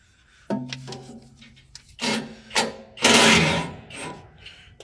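Rote electric wrench tightening bolts on a peanut harvester: a short motor buzz, then several rapid bursts of ratcheting impact close by, the longest near the end, with clanks of metal between them.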